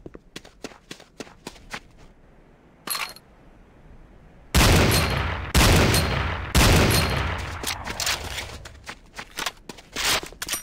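Weapon fire at targets in the video game C&C: Renegade, first a string of sharp single shots, then long, loud sustained automatic bursts, followed by more rapid individual reports.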